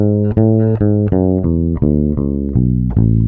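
Distorted electric guitar plays a run of single notes stepping through a scale fingering pattern, about nine picked notes in quick succession, close and loud with no talking.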